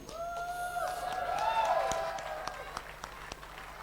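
Applause from an audience at a children's year-end concert following a Quran recitation, building to a dense peak and then thinning into scattered claps, with a tonal whistle-like sound layered over the first half.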